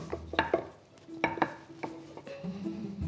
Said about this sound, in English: cut the chapati dough into small chunks